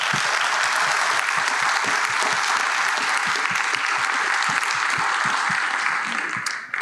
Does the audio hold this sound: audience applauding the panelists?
yes